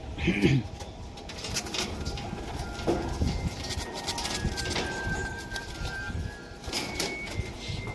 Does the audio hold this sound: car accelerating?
no